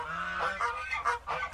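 Geese on a farm honk in a run of loud, nasal calls, several overlapping bursts close by in quick succession.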